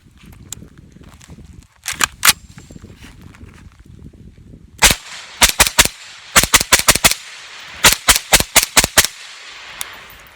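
Shots from a rifle fitted with an AAC 7.62 suppressor, sharp muted pops fired outdoors, a few single shots then quick strings of several rounds in rapid succession, with faint wind and handling noise between.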